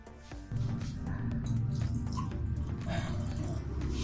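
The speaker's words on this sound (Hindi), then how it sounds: "और इस गिलास में मैं डाल दूंगी 1 कप पानी।" One cup of water is poured into a glass that already holds cooked bottle gourd, a steady splashing trickle starting abruptly and running continuously at close range.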